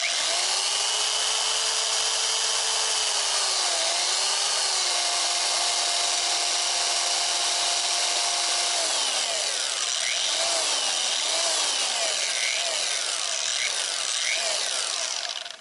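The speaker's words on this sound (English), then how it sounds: "You could hear it how the motor just ramps up and slows down, and it's just smooth." A Boss G15 dual-action polisher runs close and loud and steady, its electric motor whine holding level before ramping up and slowing down in several smooth sweeps, with no talking.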